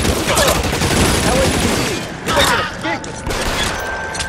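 Gunfire in the crime video game L.A. Noire, a sustained loud barrage of shots with thumps and scattered impacts over a noisy shootout, with voices shouting beneath.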